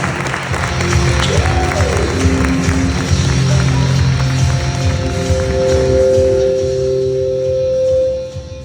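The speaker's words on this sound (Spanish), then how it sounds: "recibamos con un fuerte aplauso a Andrés" A conference audience applauds to welcome a speaker onstage, with dense steady clapping mixed with music tones and a crowd murmur throughout, fading near the end.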